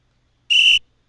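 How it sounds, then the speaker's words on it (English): A single bright, steady electronic whistle from a computer chess program flags an illegal castling move, sounding once for about a third of a second, loud and clean against silence. "You'll get the whistle blowing at you."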